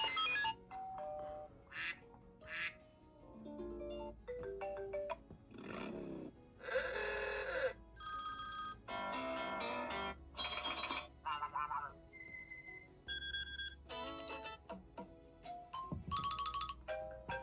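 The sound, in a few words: iOS 6 and iOS 7 ringtones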